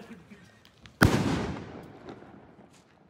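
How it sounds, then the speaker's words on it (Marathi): A single firecracker goes off with a sharp, loud bang at night during a Shiv Jayanti celebration, its echo rolling away and fading over the next two seconds. "आता इथं फटाके वाजवले जातात"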